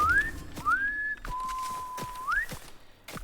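Someone whistles nearby in long sliding notes that rise and hold, broken by sharp clacking taps and a few scuffling steps.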